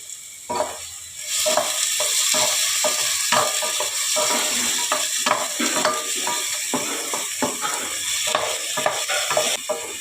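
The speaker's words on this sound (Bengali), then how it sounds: "একটু লাল করে ভেজে নেব।" Chopped ingredients fry in two spoons of oil in a pan, giving a continuous close sizzle broken by repeated sharp scraping and stirring strokes, with no talking.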